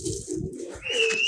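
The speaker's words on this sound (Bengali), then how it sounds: "আমি আমার এইখান থেকে একটা কবুতর ছাড়ার চেষ্টা করি" A pigeon coos in short low throaty pulses close by, a few rhythmic notes in quick succession with a faint higher whistle-like sound at the end.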